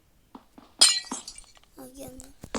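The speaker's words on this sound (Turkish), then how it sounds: "Cam kırınca gelmiyor." A Minecraft glass block shatters in a sudden bright crash, with a few faint game clicks before it and a young voice talking just afterward.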